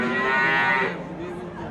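A single cow lows loudly and close at Denov livestock market, a drawn-out moo fading after about a second into a murmur of crowd chatter.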